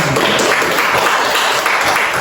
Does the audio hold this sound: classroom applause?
yes